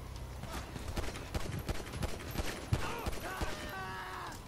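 Gunfire in the video game GTA 5, a rapid run of sharp cracks and pops scattered across a busy in-game street scene with clopping and background clutter, at moderate loudness.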